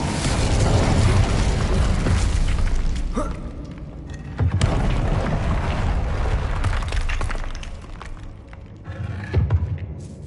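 Incendio fire spell in Hogwarts Legacy, a series of heavy whooshing bursts and booming impacts with crackling debris, loud and close, swelling and fading across several casts.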